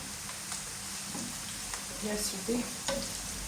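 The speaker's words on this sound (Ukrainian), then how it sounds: "Зараз я її трішечки так підсмажу." Steady sizzling of vegetables frying in a pan, close by, with a few clinks and a brief spoken remark over the hiss.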